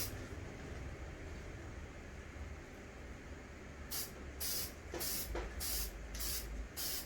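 Short bursts of aerosol spray paint hiss against a steady background rumble while a Dodge Magnum, Charger or 300 wheel rim is coated, arriving as several separate sprays in the latter half.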